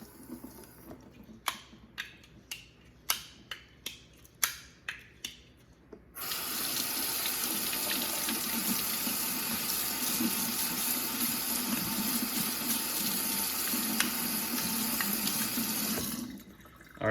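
A strong, steady stream of tap water pours over a Spyderco Military knife with S30V steel at a sink to rinse its lock interface. A few sharp clicks and taps come first, then continuous loud running water for about ten seconds before it stops.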